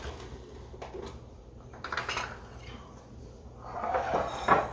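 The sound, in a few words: lid and small bowls being moved on counter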